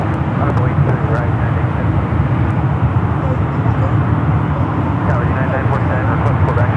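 Southwest airliner taking off from runway 28 left at San Francisco airport, a steady broad engine roar holding loud and unbroken throughout, with radio voices talking over it.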